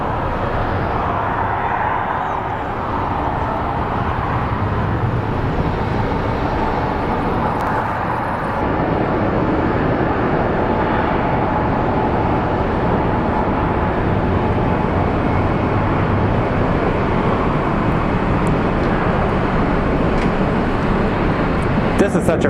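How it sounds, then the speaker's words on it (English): American Airlines Airbus A321 jet at Phoenix Sky Harbor airport, a loud continuous engine roar and rumble across the whole stretch, steady and close, with airport ambience underneath. "is an American Airlines A321 headed to LAX"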